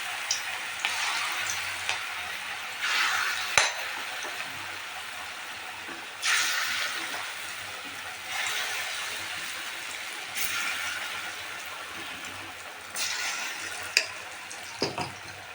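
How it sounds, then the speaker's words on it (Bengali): Small pea fritters (koraishuti bora) frying in hot oil give a steady sizzle and crackle, swelling in louder bursts as more batter drops in, with no talking. "এবার আমি এবার ছোট্ট ছোট্ট করে ভেজে নিতে হবে এরকম।"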